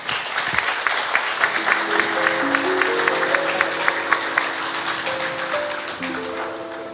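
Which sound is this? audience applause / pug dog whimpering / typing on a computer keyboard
audience applause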